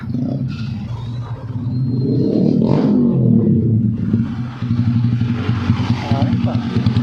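A Yamaha SZ motorcycle with a sticking carburetor revs close up, its engine rising and falling in loud bursts with rough, clattery pulsing while people talk nearby.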